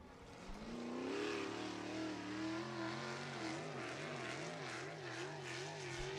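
USAC National sprint race cars lapping Ocala Speedway during qualifying, a loud, sustained engine roar with rising and falling revs and shifting pitch as cars circle the track, no voices.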